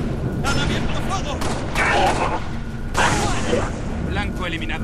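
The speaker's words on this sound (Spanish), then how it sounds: "¡Han abierto fuego!" Bursts of gunfire in the video game Halo: Reach crackle in several volleys over a dense, noisy battle soundscape, with occasional booming hits.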